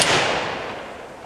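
A single unsuppressed gunshot fired at a steel plate, a loud sharp crack whose broadband blast rings and decays over about a second, with no voices.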